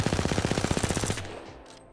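The CAR SMG in Apex Legends fires one fast, evenly spaced burst of around twenty shots over about a second, loud and close, then the echo trails off.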